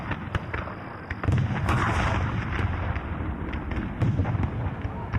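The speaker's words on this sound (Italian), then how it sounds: "fuori le urla e gli spari rimbombano per le strade del paese" Rapid bursts of gunfire crack and echo repeatedly through a town's streets in a depiction of the 1701 Battle of Chiari, over a dense, rumbling background, sharp reports scattered throughout with no voices.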